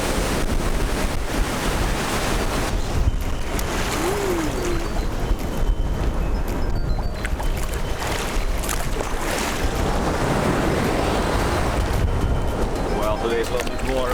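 Surf rolls onto Dahican beach with steady wind buffeting the microphone, a continuous rushing wash of waves with people talking faintly over it.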